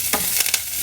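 Pounded ginger, curry leaves and dried chili fry in hot oil in a pan, giving a loud, close, steady sizzle broken by a few quick stirring scrapes.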